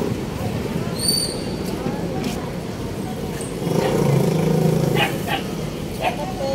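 Several pet dogs that live by a sidecar bark and yip outdoors, with short sharp barks scattered over a continuous noisy background while people talk nearby.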